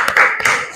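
Classroom pupils join a 'tepuk salut' clapping chant, two or three close, sharp hand claps in quick rhythm over a brief, bright burst of young voices.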